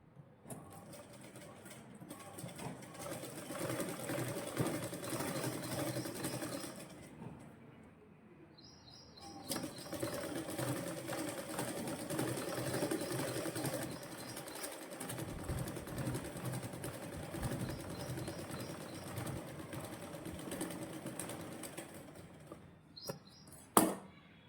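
A sewing machine stitches a shoulder-to-waist dart in a blouse, a continuous mechanical whir with a short pause near the middle before it starts again and ends with a sharp click.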